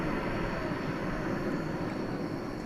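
A Qantas airliner departing DFW Airport for Sydney after midnight gives a steady, broad engine roar that holds evenly throughout, with no voices.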